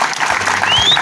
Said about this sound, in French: Nous profitons ici pour demander à tout le monde d'applaudir très fort pour les actes citoyens posés par ces sociétés.